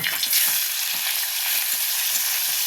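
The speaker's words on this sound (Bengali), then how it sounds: "কড়াই সাদা তেল দিয়ে দিয়েছি এবার চিংড়ি মাছটা ভেজে নেব" Prawns fry in white oil in a wok: a steady, dense sizzle and crackle that stays close and even throughout, with faint low bumps from the pan.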